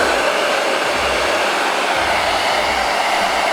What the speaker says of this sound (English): I'm going to use this good old blow dryer, and I'm gonna make it kind of tacky